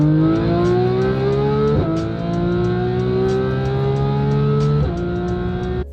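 A supercharged Porsche 911 GT3 RS engine holds a loud, steady high-RPM howl close by, with brief dips around two shift points, and no one talking over it.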